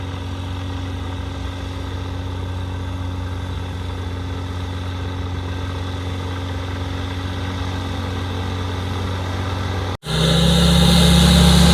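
A STOL light aircraft engine runs at a steady idle-like drone during taxi tests, loud and constant, then a brief cut near the end before it returns louder and rougher.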